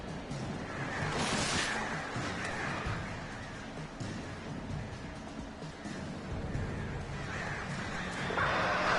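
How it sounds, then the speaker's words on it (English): Birds cawing in Alan Wake Remastered, harsh crow-like calls repeating over a dense, noisy background with ambient rumble. "These birds are weird."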